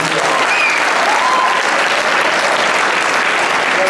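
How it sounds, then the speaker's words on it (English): A packed audience at a talent show claps loudly and continuously, a dense, even roar of applause filling the whole stretch with no pauses. "applause to all of you."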